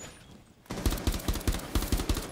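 Rapid gunfire from the video game Rainbow Six Siege, beginning after a brief quiet stretch and continuing as a run of loud, evenly spaced shots close up.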